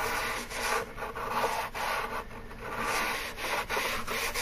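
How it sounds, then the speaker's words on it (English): A fast break sandpaper block rubs back and forth along an edgeband edge in short, repeated strokes, soft and close with no voices. "It's just sandpaper, and you slide it over there a couple times."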